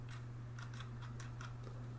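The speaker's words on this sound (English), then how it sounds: "here's a little sound test, if you're interested again, of the scroll wheel scrolling" Scroll wheel of a Glorious Model D Minus gaming mouse being rolled, giving a run of faint, rapid ticking notches in bursts over a steady low electrical hum.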